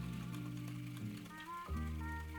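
A fishing reel being cranked to spool line for spring walleye fishing, giving a steady close mechanical whirring with gear-like ratcheting that continues through the clip with small shifts in pitch and pace.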